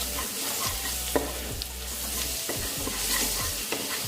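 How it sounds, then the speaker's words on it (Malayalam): Chilli powder and masala sauté in a pan for pepper chicken, with a continuous close sizzle and repeated scraping strokes of the stirring spoon and no voices. "അപ്പോൾ ഇത് നല്ലോണം ഒന്ന് വഴറ്റി കൊടുക്കണം"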